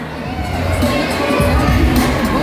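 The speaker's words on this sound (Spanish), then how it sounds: "el fuerte aplauso a la gente." Wedding guests at a couple's entrance cheer and shout loudly, a close, lively crowd with whoops and high voices over continuous clapping.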